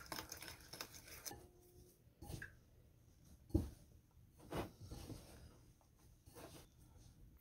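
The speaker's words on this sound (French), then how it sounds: "Et pareil, on mélange le tout." Bread dough ingredients of flour, yogurt and olive oil mixed in a bowl, with soft scraping, tapping and stirring strokes at uneven intervals, close and quiet with a few sharper knocks against the bowl.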